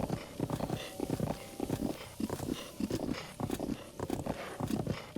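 Hooves of a horse in Zelda: Breath of the Wild pound in a steady, rhythmic galloping pattern, close and continuous across the whole stretch over a light game background.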